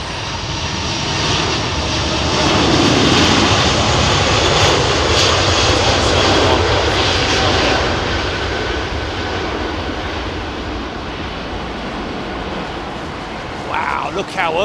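An Emirates jet airliner taking off at London Heathrow on a windy day, its engines a loud, sustained roar that swells and then slowly recedes into the distance.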